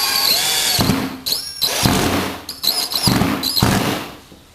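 A power drill drives 1.5-inch deck screws into plywood on a screen-printing table build, with several short whirring bursts separated by pauses, close and fairly loud.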